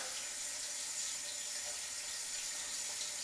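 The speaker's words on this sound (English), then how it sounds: "Let's wet the face." Tap water running steadily from a faucet into a sink to wet the face before a shave, a continuous faint hiss-like splash with no talking.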